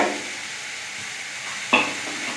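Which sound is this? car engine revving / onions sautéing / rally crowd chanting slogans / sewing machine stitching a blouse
onions sautéing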